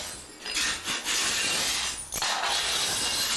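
Collectible plates shatter into shards, a loud sustained burst of breaking glassy crockery with several crashing impacts and jangling fragments throughout, no talk.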